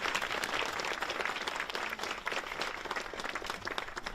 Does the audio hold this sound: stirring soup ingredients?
no